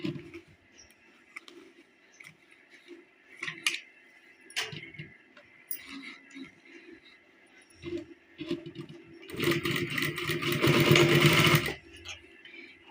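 A sewing machine runs in a short steady burst late on, stitching a folded fabric margin on loose pants, after a stretch of faint handling taps and clicks.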